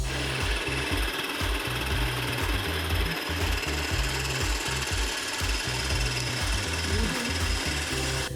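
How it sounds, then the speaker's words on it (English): Hot Cheetos are crushed in a running food processor, making a continuous loud whirring grind with rapid rhythmic low thumps throughout and no speech. "crush some of the hot Cheetos in the food processor"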